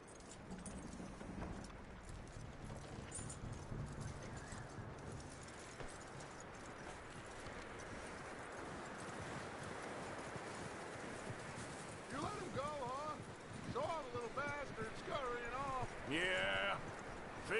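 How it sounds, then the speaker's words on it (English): Horse hooves clip-clopping in a steady rhythm for a long stretch, moderately close, with a voice speaking over the latter part. "That looks like a decent horse"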